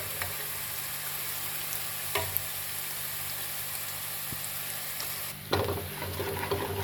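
Onions frying in oil in a pan until brown, a steady close hiss of sizzling throughout with a few brief stirring clicks and a louder burst near the end.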